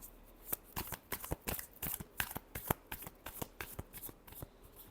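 A deck of tarot cards is riffled and shuffled close up, a quiet run of sharp papery flicks and slaps in an uneven rhythm with no talking.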